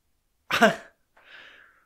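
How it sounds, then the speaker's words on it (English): A single sharp cough, followed a moment later by a softer breathy exhale, alone in an otherwise quiet setting. "It made me cough."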